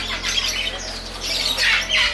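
Pet birds at a Hong Kong bird market give a sequence of harsh, close squawks with fluttering wing flaps, several bursts rising and falling over a steady background hum.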